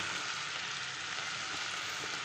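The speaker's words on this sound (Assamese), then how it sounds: "লাহে লাহে ভাজি থাকিম" Chopped ivy gourd fries in a pan with turmeric and salt, giving a steady, close, even sizzle that holds at the same level throughout, with no talking.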